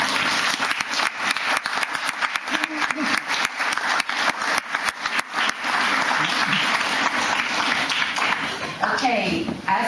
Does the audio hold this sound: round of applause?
yes